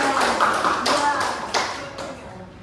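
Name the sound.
applause for group 3 in a class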